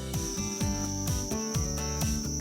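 Crickets chirp steadily at an insect farm raising crickets and mealworms, a dense, continuous chorus of repeated high trills with a regular pulsing rhythm, fairly close and with no voices.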